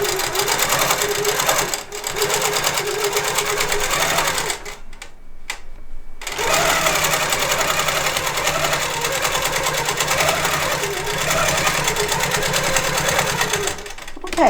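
Longarm quilting machine stitching binding onto a quilt on the frame, a steady fast mechanical whir running continuously with a few brief pauses, close and loud.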